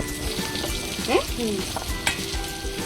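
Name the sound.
food frying in a pan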